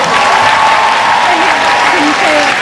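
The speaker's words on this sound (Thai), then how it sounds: "ปรบมือครับปรบมือหน่อย" A crowd at a 2023 solo fan meeting in Bangkok claps steadily and loudly for the whole moment, a dense continuous wash of applause.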